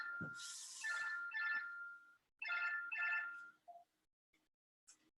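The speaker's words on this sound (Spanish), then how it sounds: "Era el teléfono fijo" A landline telephone rings indoors, two loud electronic trilling bursts separated by a pause, followed by a few faint clicks and small sounds before silence.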